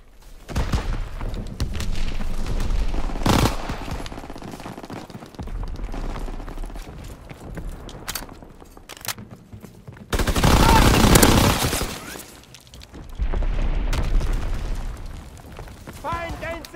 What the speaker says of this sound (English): And he's gonna throw a grenade right now.